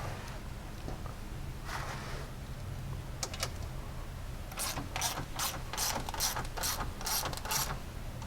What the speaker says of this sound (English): We'll go ahead and tighten these cup washers down.